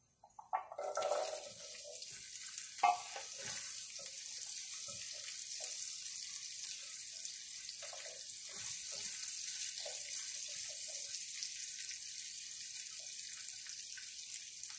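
Carrots cooking in a pan for Caribbean chicken curry give off a steady soft sizzle after an initial splashy hiss and a clank, faint and continuous with occasional small knocks.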